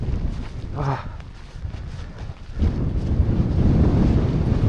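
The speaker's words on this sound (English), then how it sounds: "it's so windy." Strong gusting wind at a freezing snowy winter wild camp beside a Hilleberg Soulo tent, buffeting the microphone in loud roaring blasts that ease briefly then surge back harder, with a brief exclamation from a person.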